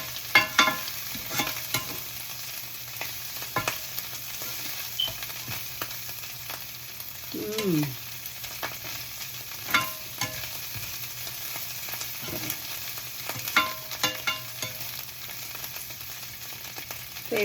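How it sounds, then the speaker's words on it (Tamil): Onions fry with dried shrimp in a pan, giving a steady close sizzle with frequent scraping and stirring clinks over the top throughout. "வெங்காயத்தை போட்டு வறுக்க கூனிறால் கருவாடு சூப்பர் வாசம் வருது"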